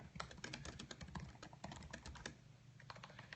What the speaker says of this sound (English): I'm just typing hello there.